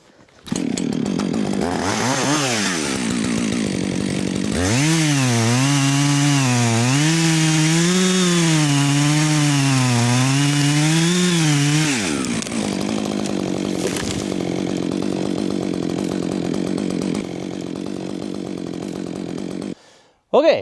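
A chainsaw cuts through a roughly 16-inch-diameter tree during felling, its engine revving up in a loud, steady drone for several seconds before dropping back to idle, close by, with brief talk at the start and end.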